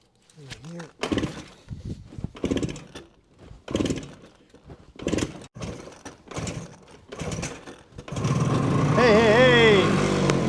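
A 1970 Suzuki T350 motorcycle engine cranks under repeated short bursts of talk, then fires and catches near the end, settling into a loud, steady running drone for the last couple of seconds.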